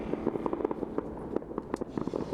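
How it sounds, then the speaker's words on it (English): Fireworks go off over downtown Indianapolis, a rapid series of crackling bangs and pops, fairly loud and continuous, with no voices heard. "warm greetings as the fireworks going off in downtown Indianapolis"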